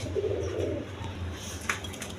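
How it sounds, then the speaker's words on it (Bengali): A pair of Rajshahi golla domestic pigeons, a male and a female, give a soft, low cooing near the start, followed by a brief clink. "দর্শকবৃন্দ, এইখানে আরেক পেয়ার রাজগোল্লা কবুতর আছে"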